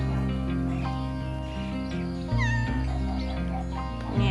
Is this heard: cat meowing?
yes